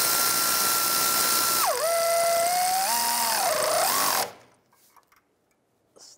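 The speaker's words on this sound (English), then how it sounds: "And tighten these down." A power tool tightens bolts on a spare tire carrier of a 2002-2009 Chevrolet Trailblazer with a loud, close whirring buzz whose pitch dips and shifts as the bolt snugs down. It cuts off abruptly, leaving near silence.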